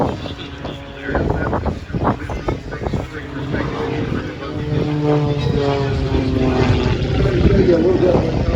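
Aerobatic airplane at an airshow recovering from a spin, its propeller and engine roaring loudly and rising in pitch, with a commentator talking over it throughout.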